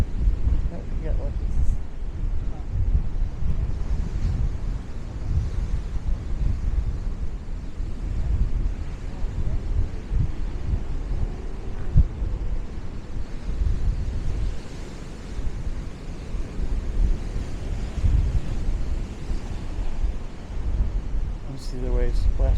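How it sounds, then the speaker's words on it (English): Strong wind buffets the microphone on the Lynn, Massachusetts coastline, with a steady low roar of ocean surf breaking against a nearby island underneath, continuous for the whole stretch. "See the waves splashing out against that island like really fast."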